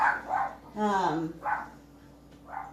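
A dog barks several times in quick, separated bursts at close range, with a longer whining bark in the middle, while people talk nearby.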